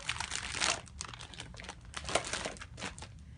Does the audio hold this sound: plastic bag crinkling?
yes